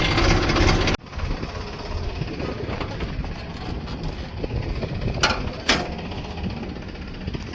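A tractor engine runs continuously on a rural road being levelled and cleaned, a rough, clattering mechanical drone with occasional sharp knocks, heard moderately close without a break.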